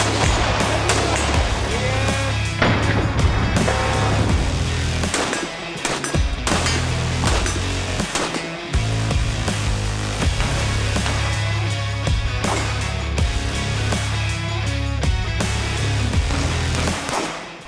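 Rapid gunfire at a winter shooting training camp, loud and dense, with sustained bursts and single shots cracking almost nonstop over heavy rumbling background noise across the whole stretch.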